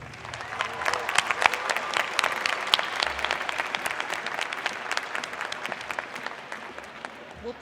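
Graduation ceremony audience at a diploma and awards event applauding a graduate: steady, sustained clapping from a large crowd, moderately loud and even throughout with no talk over it.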